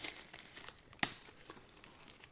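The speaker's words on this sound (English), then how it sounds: "Let's get rid of the plastic as usual." Plastic wrapping being pulled off the box of a Meridian body hair trimmer gives faint, intermittent crinkling with one sharper crackle near the middle.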